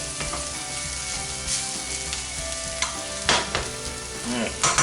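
Onions and aromatics sizzle and fry steadily in a pan for shakshuka, a continuous close crackle with a few louder bursts as they are stirred, no talking.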